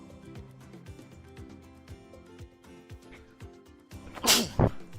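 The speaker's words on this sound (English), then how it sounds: "that was a big sneeze" A single big human sneeze bursts out loudly near the end, following a stretch of quiet clicking and tapping sounds.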